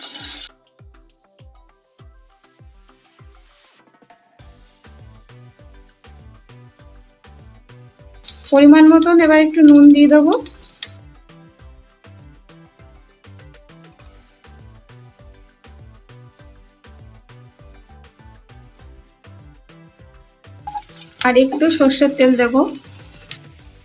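Pumpkin being stirred in a pan with coriander powder, turmeric and Kashmiri chilli powder: a steady, rhythmic scraping of a spatula, fairly close, broken twice by loud, bright bursts of tonal sound.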